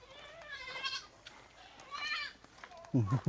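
Goats bleating in a few wavering calls, with a short, deeper, louder bleat close by at the end.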